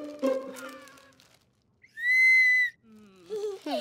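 A toy whistle from a children's party bag gives one loud, steady, shrill blast lasting under a second, set between bursts of cartoon dialogue and voices before and after.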